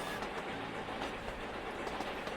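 A train rolls along in the Sweet Transit video game, its rhythmic clickety-clack of wheels on rails repeating steadily at moderate volume with no talking.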